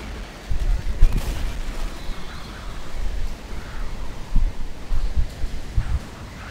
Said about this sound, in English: I'm throwing pipe bombs at.